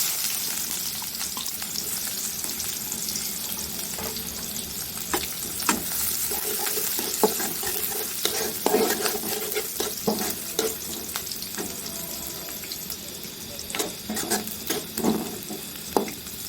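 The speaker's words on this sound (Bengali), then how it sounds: "এই যে এখন আমরা ফোড়নে পেঁয়াজ দিয়ে দেবো।" Onions are dropped into hot oil for tempering and fry with a continuous crackling sizzle, punctuated by occasional stirring clinks and scrapes, with no voices.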